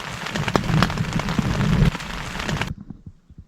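Steady rain pattering heavily with a low rumble underneath, cutting off abruptly near the end to a few faint drips.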